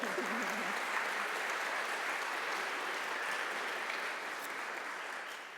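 A church congregation applauds during a members' recognition service, a steady, dense wash of clapping from a large indoor crowd that holds evenly for several seconds before easing slightly at the end.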